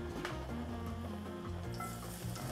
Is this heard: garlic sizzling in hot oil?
yes